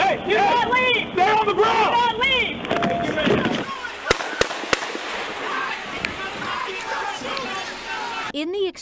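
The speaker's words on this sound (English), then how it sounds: "Officer Mitchell Piper fired one less lethal round at Ramos, hitting him in the hip" A police officer fires a less-lethal round during a confrontation with protesters, giving a few sharp, loud pops amid crowd noise and people shouting.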